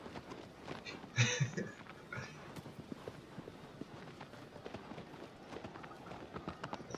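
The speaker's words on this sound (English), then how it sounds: "Your white horse running like that reminds me of that Boys to Men video" White horse galloping in the 2018 Shadow of the Colossus game, soft rhythmic hoofbeats running steadily at moderate distance, with a brief louder burst early on.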